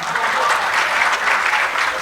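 Audience applause at a Hindi comic poetry recital, a continuous wash of clapping from a crowd, moderately loud and even throughout.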